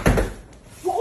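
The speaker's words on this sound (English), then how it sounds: "knocking" Knocking on a door: a burst of heavy knocks or a thud at the start, then quiet, with a voice starting up at the end.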